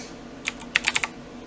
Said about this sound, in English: And I apologize for the loud mouse or keyboard clicks.